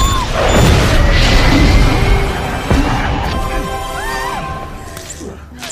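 Large explosions tearing through the Stark Expo stage in an Iron Man film scene, a loud sustained roar of crashing blasts and debris, with voices and swelling soundtrack underneath.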